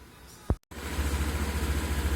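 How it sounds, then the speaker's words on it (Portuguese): A repaired Honda PCX 150 scooter engine idles steadily up close with a low, even pulsing hum, preceded by a brief thump and a moment of silence. "Aí o PCX aí funcionando aí, ó, acabou o barulho da moto"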